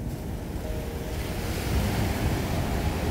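Baltic Sea waves wash steadily onto the beach at Świnoujście on a fine September day, a continuous rolling surf with wind buffeting the microphone and no voices.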